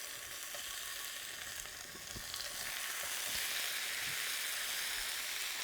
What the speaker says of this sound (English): pre-cook the meat to a rare stage by roasting, stewing, or browning it in a little bit of hot oil like I'm doing here